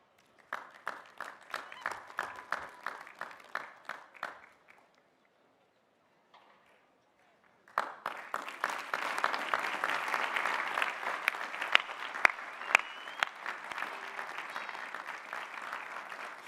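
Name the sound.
applause for graduates at commencement ceremony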